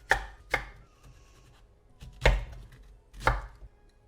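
A knife chops apples on a board with four distinct, sharp thuds spread unevenly over a few seconds, close and alone without speech.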